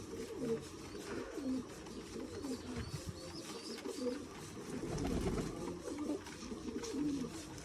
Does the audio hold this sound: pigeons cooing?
yes